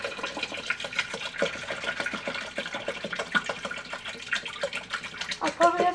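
Water is poured from gallon jugs into a home fish tank to top it up, giving a soft, continuous splashing and trickling up close, with some faint handling noise.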